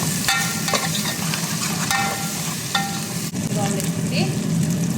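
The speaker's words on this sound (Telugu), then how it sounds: "కరివేపాకు కూడా లాస్ట్ ఇవన్నీ బాగా వేపేస్తుంది" Ginger, curry leaves and chicken frying in a pan, a steady loud sizzle with occasional stirring scrapes and clinks throughout.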